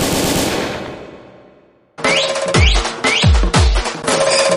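Rapid bursts of gunfire sound effect, loud sharp cracks with booming low thuds repeating in quick succession after a fading musical swell and a brief silence.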